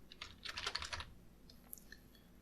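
Rapid, light clicking of keys on a computer keyboard as a message is typed, a quick burst of keystrokes followed by a few scattered taps, close and quiet.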